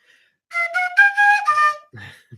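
A few high, breathy fife notes play a short melodic phrase up close, ending with a brief low fumble.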